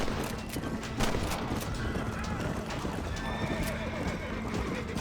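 Horse hooves clip-clop at a steady run in Red Dead Redemption, with repeated neighs and whinnies over a loud, dense game soundscape; a voice talks underneath.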